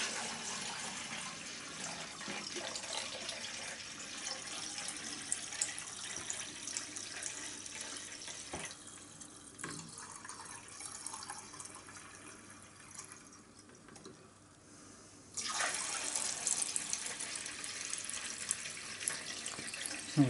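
Cloudy homemade raspberry wine runs in a steady splashing stream into a demijohn, topping it up during a three-gallon batch; the pour continues for the whole stretch, dipping quieter midway before surging louder again, with no talk over it.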